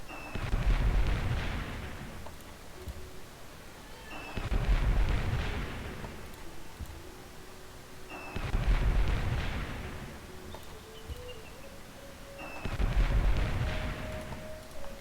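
Bombing in the computer game Civilization III, set in a World War 2 scenario, comes as four rolling explosive bursts of artillery-like booms, evenly spaced and fairly loud, each fading before the next, with no voices.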